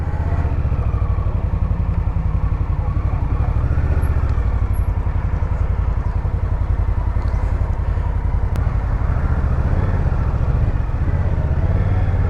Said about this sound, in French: un coup sur le démarreur, on peut relâcher le bouton même sans attendre qu'elle ait démarré